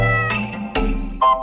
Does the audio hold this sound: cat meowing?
yes